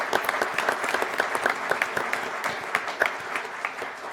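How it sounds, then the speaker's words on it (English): A crowd at a Tacoma Rainiers and Seattle Sounders FC press conference gives a round of applause: full, even clapping from many people, sustained and fairly close for about four seconds with no one speaking. "Give them a round of applause."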